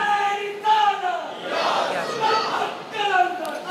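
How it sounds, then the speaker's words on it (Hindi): A large crowd at a religious qasida gathering chants the Allahu Akbar response to a takbir call, loud rhythmic massed voices rising and falling in repeated phrases. "नारे तकबीर अल्लाह अकबर"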